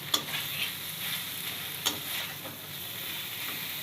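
Fish fries with spices in a pan, a steady close sizzle with a few sharp stirring clinks and scrapes, and no voices.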